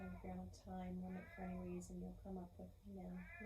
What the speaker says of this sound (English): If you can hear the boy cat outside my studio